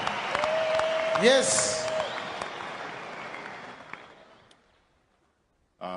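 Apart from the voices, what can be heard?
congregation clapping hands, applause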